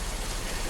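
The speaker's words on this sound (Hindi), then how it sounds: "बाहर अभी भी बारिश हो रही थी।" Steady rain falling outside at night in a dense forest, a dense even hiss of drops with no voices, heard as a backdrop in a horror story.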